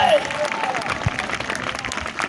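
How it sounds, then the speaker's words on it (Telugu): A church congregation claps during a Telugu sermon, a brief burst of dense applause under a speaking voice. "గట్టిగా చప్పట్లు కొట్టి స్తోత్రం చెప్పండి"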